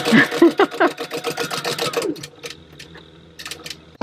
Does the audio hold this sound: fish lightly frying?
no